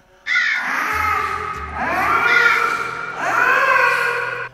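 Three long, harsh caws from a crow, loud and close, each drawn out with a wailing tone and separated by brief pauses.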